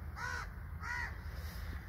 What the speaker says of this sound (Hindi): कौवे बोल रहे हैं और बिल्कुल सन्नाटा है